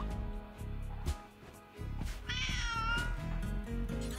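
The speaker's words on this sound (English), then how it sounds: "But cat says meow." A whiny cat meows once, clear and fairly close, over a busy video-game soundtrack of steady music and clicks, with no talking.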